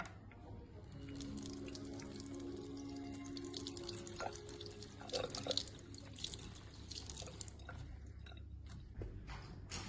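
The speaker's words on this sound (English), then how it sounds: "And I rinse again." Tap water runs quietly into a sink as a stained microscope slide is rinsed, a faint continuous splashing trickle with small irregular drips and clinks.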